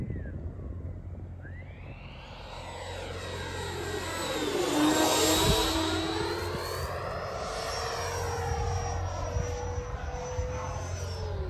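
A Freewing F-22 90mm electric ducted-fan RC jet makes an inverted pass over a runway, its whine rising as it approaches overhead, peaking loudly mid-pass with a pitch sweep, then fading into a steady distant hum.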